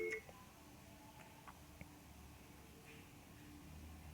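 A phone's incoming call tone sounds as a short, faint electronic beep at the start, followed by a quiet indoor room hum with no talking.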